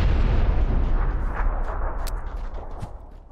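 A grenade going off in PUBG during a red zone bombardment: a heavy, close boom with a long rolling rumble that fades over several seconds, with a few sharp pops in the tail and no speech.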